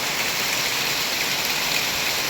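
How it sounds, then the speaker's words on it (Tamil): Heavy rain pouring steadily during a storm with wind, a dense, loud, unbroken hiss of falling water. "அந்த அளவுக்கு மழை பெய்யுது பாருங்கள்"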